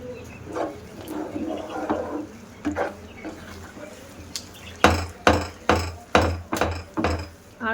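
Halwa being stirred in a pan with hot ghee over a low flame: a run of sharp, rhythmic scraping knocks, loud and close, follows a stretch of softer clatter under a low hum.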